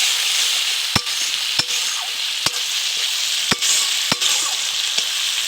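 Spice paste for egg curry frying in hot oil, a loud continuous sizzle broken by about seven sharp spoon taps and scrapes against the pan at irregular intervals, close up with no talking.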